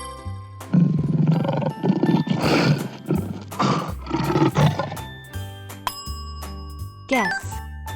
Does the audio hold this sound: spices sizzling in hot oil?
no